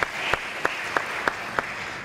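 A church congregation at a Bible study gathering applauds together, a steady wash of clapping with sharper accents recurring at an even rhythm.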